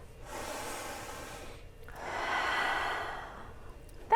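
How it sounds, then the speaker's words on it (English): Two slow, deep breaths, each one a soft airy rush lasting over a second, close and quiet, with a brief sharp sniff at the very end and no talking. "we'll breathe in deeply"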